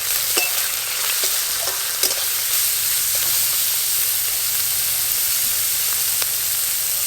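Small prawns frying in well-heated oil in a village kitchen, a steady close sizzle with faint stirring clicks running unbroken throughout.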